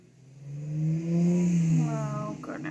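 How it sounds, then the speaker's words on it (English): A car passes outside, its engine rising and then fading over a couple of seconds, distant and muffled indoors with no one speaking. "Oh goodness, it's like traffic hour."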